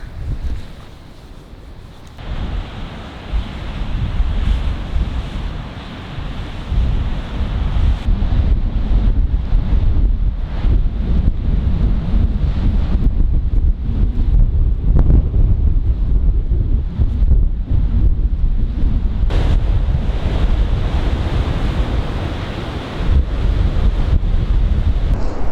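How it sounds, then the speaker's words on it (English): Strong wind buffets the microphone on a clifftop above a raging ocean, with heavy surf crashing below in a loud, continuous roar that swells and gusts throughout, no voices. "It's the raging ocean in front of me, and I'm standing here on this cliff, and the wind is raging"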